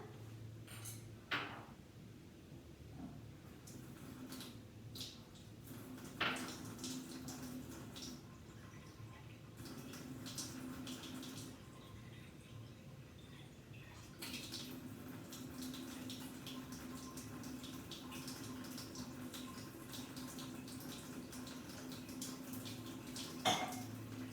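Four tablespoons of water poured onto activated charcoal and stirred in a dish, heard as faint clinks and scrapes with soft liquid sounds under a low room hum.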